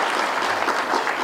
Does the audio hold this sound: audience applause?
yes